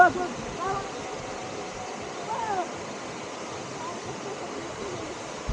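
Rushing water of the Talahiban River in Nagcarlan, Laguna roars steadily as broadband noise throughout, with faint voices surfacing briefly beneath it.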